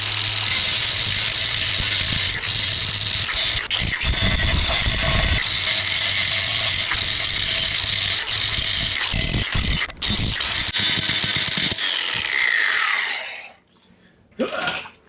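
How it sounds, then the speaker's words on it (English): Angle grinder grinding down rough, freshly saw-cut metal while fabricating a turbo kit for an N54 engine with an 8HP gearbox: a loud, steady grinding whine for about twelve seconds, briefly dipping mid-way, then cutting off with a short final burst. "we'll just easily grind it down"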